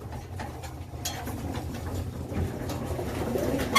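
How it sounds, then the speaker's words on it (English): Pigeons cooing steadily in a loft after returning from a toss, a low continuous burble of several birds at once, with faint rustling and no talk. "wanted to show you the pigeons now that they're back from their toss"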